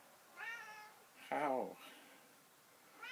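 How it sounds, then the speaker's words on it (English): A pet cat meows twice close by, first a short mew and then a louder, drawn-out call, while a person speaks briefly nearby. "Nice kitty."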